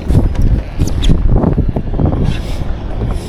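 Strong gusty wind buffets the microphone out on open sea during kayak fishing off Cebu in stormy weather, a loud roaring rush with bursts of rustle and water sloshing, with no talk over it.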